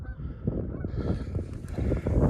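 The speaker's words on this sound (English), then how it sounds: "There is some geese over there." Geese honking repeatedly at a distance on an overcast day outdoors, the calls layered over steady low wind and field noise with no talking.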